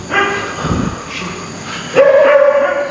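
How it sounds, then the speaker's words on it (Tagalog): A dog barks and yips close by, a short whimpering cry followed by a sustained high bark, with voices nearby. "Aso."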